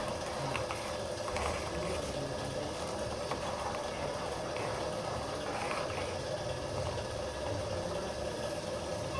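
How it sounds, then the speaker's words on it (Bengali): Milk tea sweetened with a dissolved lump of sugar heats toward a boil in a pot, giving a steady, even hiss and low rumble with faint bubbling throughout, with no pauses. "এখন আমি একটু বলক দিয়ে নিব।"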